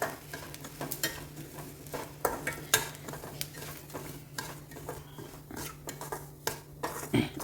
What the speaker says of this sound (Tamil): போட்டு ரவையை போட்டு வறுக்கணும்